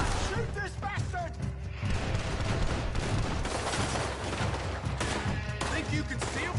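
Gunfire from a Red Dead Redemption 2 shootout, dense and continuous for several seconds, mixed with shouting voices and other loud, chaotic game sounds.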